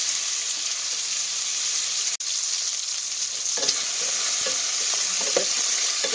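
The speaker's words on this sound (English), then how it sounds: "Just stir it, browning it really nicely." Bacon and minestrone soup ingredients brown in a pan with a constant, bright sizzle. Occasional scrapes and taps of a utensil stir through it, and there is one brief dropout near the middle. No voices.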